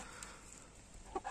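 Chickens on a hot farm give a few brief, faint clucks near the end of a quiet stretch of low background noise, with no talking.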